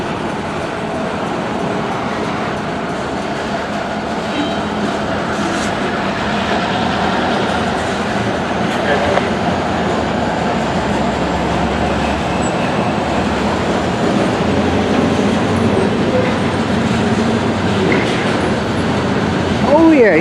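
A Union Pacific freight train rolls through the Denver North rail yard at a good clip, a steady broadband rumble of wheels and cars that holds throughout at moderate distance, with faint voices now and then.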